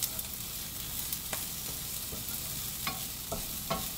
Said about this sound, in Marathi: ते गरम तव्यावरच मी बारीक बारीक हे भाजत आहे